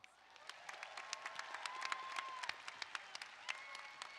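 Graduates at a Cal Poly College of Engineering commencement ceremony are greeted by a large audience with steady, moderately distant applause, dense clapping that swells slightly and carries on without a break.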